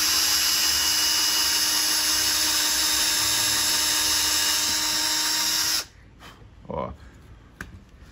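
An electric drill bores a hole, a loud, steady high whine running for several seconds before cutting off abruptly, followed by quieter handling noises and a faint voice.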